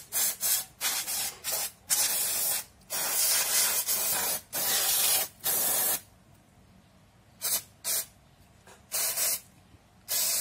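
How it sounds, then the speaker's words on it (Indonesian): Cleaner sprayed onto a motorcycle disc brake speed sensor in repeated short hissing bursts, some long and some quick, close and fairly loud, with brief silent pauses between sprays and no talking. "Kita juga bisa langsung semprot."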